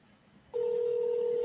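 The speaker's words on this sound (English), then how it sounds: "It's ringing." A steady electronic telephone tone starts abruptly after a half second of quiet background and holds unbroken, fairly loud.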